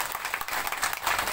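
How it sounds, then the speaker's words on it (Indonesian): A church congregation at an evangelistic revival gathering in Amanatun Timur, Manufui, breaks into a short burst of dense, lively applause from many hands, close and filling the space. "Beri tepuk tangan yang terbaik buat Tuhan Yesus Kristus."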